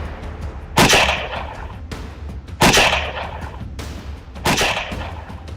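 A man fires shots on a highway in Bihar, caught on CCTV: three sharp, loud bangs at roughly even intervals over a low background hum, with no talking.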